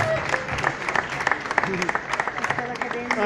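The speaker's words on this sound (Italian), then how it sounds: "ancora un altro grande applauso" Clapping from a crowd carries on steadily throughout, with some voices mixed in among the applause.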